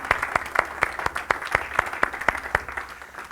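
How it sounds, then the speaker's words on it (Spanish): Church congregation claps in a steady rhythmic beat, about four claps per second in unison, offered in praise to God during a worship service. "Quisiera pedirles un aplauso para nuestro gran Dios y Salvador Jesucristo."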